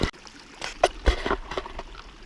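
Water trickles through a narrow rock crack at Dead Horse Point State Park, Utah, splashing nearby in a steady, uneven burble, with brief louder drips and splatters standing out against the flow.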